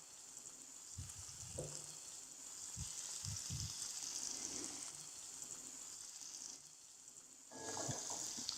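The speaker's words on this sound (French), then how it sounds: "On va maintenant pouvoir mettre les morceaux de lotte dans la poêle." Monkfish pieces sear in a hot frying pan, a steady soft sizzle running throughout with a few low clunks and knocks early on, no voices.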